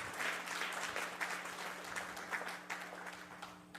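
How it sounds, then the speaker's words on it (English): Audience clapping at a women's gathering called Ladies in Big Hats, a steady sustained round of applause from a crowd, moderately distant and fading slightly toward the end, with a faint steady hum underneath. "I want you to clap on that one."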